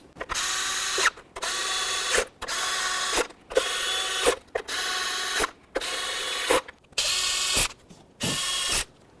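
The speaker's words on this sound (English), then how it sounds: "Now we're going to snug these up, and when we do this, we're going to start from the center and work our way out." A hand ratchet snugs the ignition coil bolts on a 2004-2012 Volvo S40, clicking in eight or nine brisk bursts of rapid pawl ticks separated by short pauses, close and loud with no talk.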